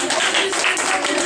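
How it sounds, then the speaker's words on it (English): Clapping rings out during a magic show: a short burst of quick, close handclaps with voices mixed in. "Did you hear him clapping?"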